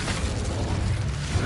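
A fire spell cast in a Hogwarts video game, a dense burst of roaring, crackling flame that holds steady for over a second at moderate volume.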